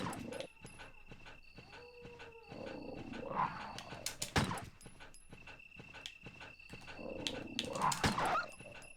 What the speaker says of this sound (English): One of those dogs is running against the wall.